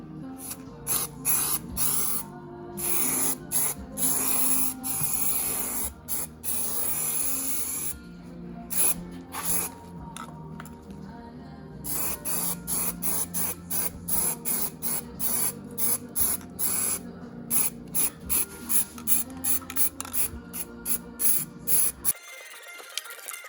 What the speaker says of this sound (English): a little bit of rattle can etch primer on this, just so it doesn't flash rust